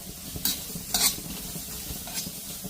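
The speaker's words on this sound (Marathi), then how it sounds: "एक छोटा हा कांदा कापून घेतलेला आहे, तो मी भाजून घेणार आहे तेलावरती।" A small chopped onion fries in oil under a soft continuous sizzle, broken by three or four quick spoon-stirring scrapes, close and moderately quiet.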